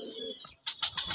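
A young spotted dove or pigeon, hand-raised and kept with other doves, gives a few short, faint calls in quick succession.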